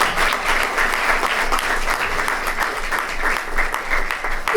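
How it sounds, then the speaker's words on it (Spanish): Steady, close applause from an audience at a Chilean architecture school, honoring a teacher, with dense clapping that holds evenly throughout. "denle un fuerte aplauso a nuestro docente"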